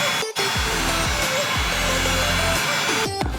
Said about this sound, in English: That heat gun, I can see it turning orange.